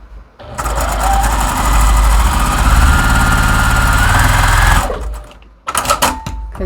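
A sewing machine chain-pieces quilt sampler pieces in a fast, loud, steady run of stitching lasting several seconds, then stops, followed by a short burst of stitching after a pause.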